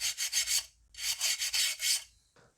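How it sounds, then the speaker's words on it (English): Old gasket maker scraped off the valve cover of a Mercedes W220 S 320 V6, harsh close rasping strokes in two rhythmic bursts of four or five pulls, then a brief faint scrape. "So let's go ahead and remove the old gasket."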